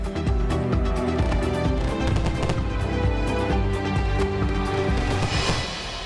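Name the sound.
virtual fireworks display in front of Red Fort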